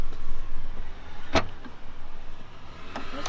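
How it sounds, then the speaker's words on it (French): A BMW's trunk lid opens with one sharp mechanical release click, close and distinct, over a low, steady background hum, followed by a couple of fainter clicks. "On peut ouvrir le coffre"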